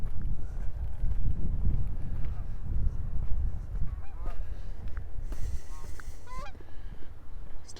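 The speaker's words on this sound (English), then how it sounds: "Still some geese around." Geese honk in a series of calls during a winter walk in A.E. Wilson Park, Regina, over wind noise and footstep rumble, with a cluster of honks near the end and a voice speaking.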